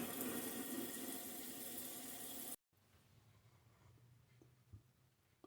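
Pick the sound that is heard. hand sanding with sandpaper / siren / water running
water running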